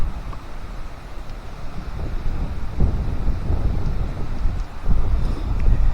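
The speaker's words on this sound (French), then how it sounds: "il y a beaucoup de vent." Strong wind buffets the microphone at a riverside campsite on an autumn evening, a steady low roar with heavier gusts swelling near the middle and end.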